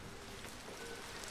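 Rain falling in the video game Teslagrad, a steady, soft, even hiss of patter that stays quiet throughout with no voices over it.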